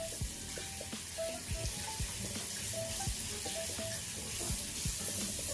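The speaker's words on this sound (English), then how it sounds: "You want to wash your brush out. Make sure you get all that soap out of it." Running tap water splashes steadily while soap is rinsed out of a shaving brush, with small irregular drips and squelches over the continuous flow, close and moderately loud.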